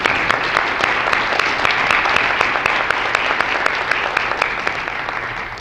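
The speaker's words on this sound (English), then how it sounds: "I'm going to give them one more round of applause." Workshop attendees give the presenters a sustained, even round of clapping that fills the room at steady loudness throughout, without talk.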